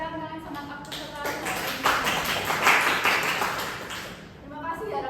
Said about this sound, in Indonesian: bagi tepuk tangan dong buat kalian sangat aktif sekali